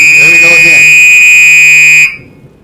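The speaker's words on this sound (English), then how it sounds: "Those are fire alarms going off." Several fire alarms go off at once, a piercing, very loud continuous electronic tone with a warbling sweep at the start, cutting off sharply after about two seconds.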